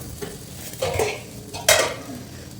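Cooked beef biryani is stirred in a pot, with a couple of distinct scraping, clattering strokes of a utensil against the pot over a quiet background, no talking.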